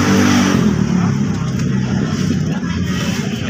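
A Kawasaki Dominar 400 motorcycle engine runs loud and close, a dense, steady roar with slight swells of revving throughout, nearly unbroken for the whole few seconds.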